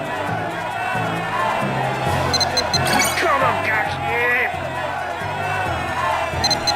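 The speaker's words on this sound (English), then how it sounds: "There's an awful lot of cheering going on in the background." A video-game crowd in Shenmue 2 cheers and murmurs in a steady background babble with faint clinks, under a voice that talks over it throughout.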